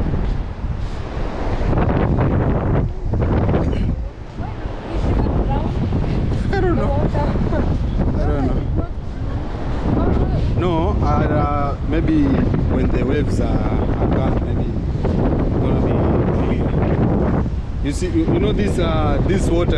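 Wind buffets the microphone on a Kenyan beach near the Sabaki River, with surf washing in the background while people talk throughout.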